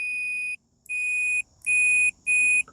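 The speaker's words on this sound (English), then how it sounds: "that beep will happen and you'll see a change there" Four clean, high electronic beeps from a multimeter continuity tester on an emergency stop switch sound in quick succession, each lasting about half a second, with short silent gaps and no voices.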